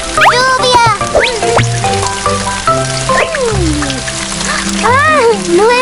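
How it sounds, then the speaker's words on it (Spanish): In an animated children's episode, a lawn sprinkler sprays water across the grass with a steady, rain-like hiss and patter, mixed with cartoon sounds and voices. "No es lluvia. Están regando el césped."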